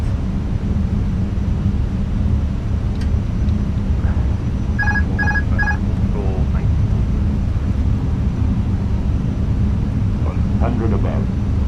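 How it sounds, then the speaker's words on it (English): Autopilot disconnect warning in the cockpit of a TAP airliner on approach, a short series of repeated electronic chime tones over the steady roar of cockpit noise, with pilots talking around it. "Autopilot disconnect."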